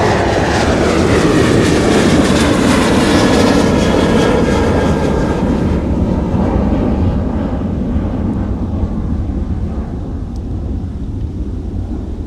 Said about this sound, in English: Meanwhile, their competition, Southwest Airlines, is getting airborne on the south parallel runway.